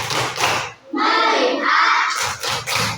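Schoolchildren performing a rhythmic group clap in a classroom, short bursts of synchronized hand claps alternating with the kids chanting together in unison.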